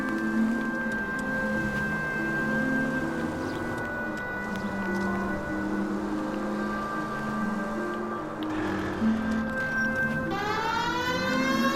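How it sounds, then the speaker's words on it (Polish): A police car siren switches on in a 1940s-era driving video game, its rising wail sweeping up over a steady engine drone and background music in the final seconds. "Włączę syrenę, tam się będą wszyscy umykać z tego spod kół."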